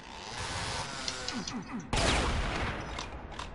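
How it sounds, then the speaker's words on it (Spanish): Dense, loud game combat from Brutal Doom 64: a chainsaw chewing through demons amid bursts of gunfire and impacts, growing harsher and louder partway through, with no voices. "Aquí cortando con la motosierra hice una especie de carnicería demoníaca"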